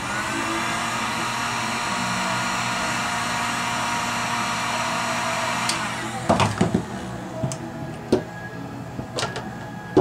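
A heat gun blows a continuous loud airy whoosh while heating woodgrain on a 1967 car dash, then cuts off, leaving scattered clicks and handling knocks.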